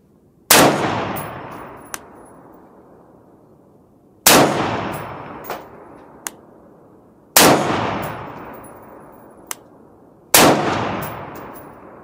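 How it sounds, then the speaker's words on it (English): A rifle fitted with an adjustable gas block fires four loud, sharp shots spaced about three seconds apart, each with a ringing decay, and faint metallic clicks of the action cycling between shots. "now I want to check to make sure that the rifle properly cycles"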